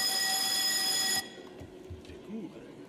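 A parliamentary chamber's voting bell, rung again by the president during a plenary session, sounds as a loud continuous electric ring for about a second. It then cuts off abruptly, leaving a quiet room with faint murmurs.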